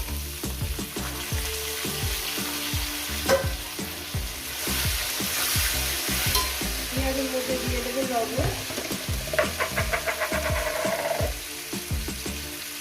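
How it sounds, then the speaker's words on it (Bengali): Whole garam masala, cumin, bay leaf and onions fry in hot oil for a Bengali mutton kosha, a steady close sizzle with clinks and scrapes of stirring running throughout, and no talk over it. "ওই তেলের মধ্যে দিয়ে দেবো গোটা গরম মশলা জিরে তেজপাতা এগুলো দিয়ে দিলাম কয়েক সেকেন্ড ভেজে নেব এরপর দিয়ে দেবো পেঁয়াজগুলো"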